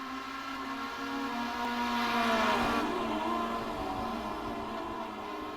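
Mazda MX5 race cars in the iRacing sim at Oulton Park, a steady engine drone with rising revs and a car sweeping past midway, continuous and fairly close with no talk.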